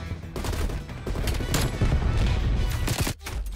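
Rapid gunfire in a shooting video game, sustained automatic bursts at a steady, fairly loud level with a brief gap near the end.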